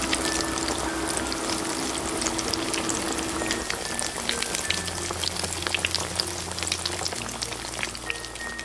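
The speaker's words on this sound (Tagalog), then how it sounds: "Magprito na tayo" Lumpiang shanghai fry in hot oil with a dense, loud, continuous crackling sizzle that stays steady from start to finish. Small pops sound through it up close, with no speech.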